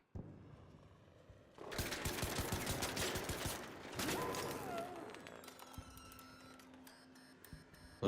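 Gunfire in the video game Arc Raiders, a sudden dense burst of rapid shots striking the player, loud and close, trailing off into scattered clicks and game sounds.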